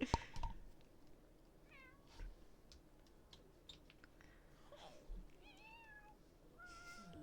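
A house cat meows several times at a bedroom bed, the short rising and falling cries spaced out over a quiet room with faint background rustle and no talk.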